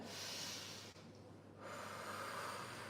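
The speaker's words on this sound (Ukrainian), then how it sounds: "Глибоко вдихнули." A long, hissing breath is drawn in, breaks briefly, then a steady airy exhale or inhale continues, close to the microphone.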